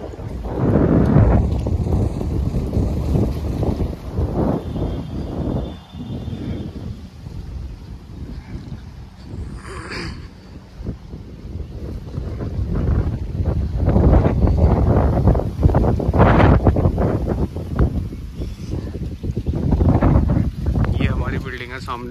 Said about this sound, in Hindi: यहाँ बहुत ही शानदार हवा चलती है